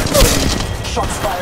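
Gunfire from the Spitfire light machine gun in the mobile battle royale game Apex Legends Mobile, a loud burst of rapid shots and impacts up front, trailing into softer scattered fire.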